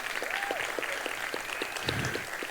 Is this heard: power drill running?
no